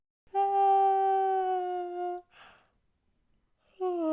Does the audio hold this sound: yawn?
yes